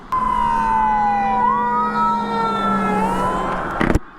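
A wailing emergency siren sweeps up and down as a vehicle passes close by, loud and steady, with engine rumble underneath.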